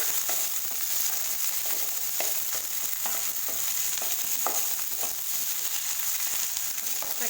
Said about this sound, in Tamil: மீடியம் ஃப்ளேம்லேயே வச்சு வெண்டைக்காயை நல்லா எண்ணெயில் வதக்கி விட்டுக்கலாம்.